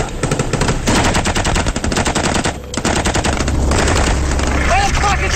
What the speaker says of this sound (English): there's fire from up there